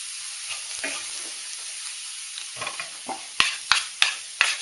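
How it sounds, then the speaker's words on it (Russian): Strawberries and about three quarters of a cup of water go into a hot pan for a spicy sauce, bringing soft sizzling and stirring, then several sharp, loud bursts of spitting sizzle near the end. "Сразу потом засыпаем клубнику и заливаем примерно 3/4 стакана воды."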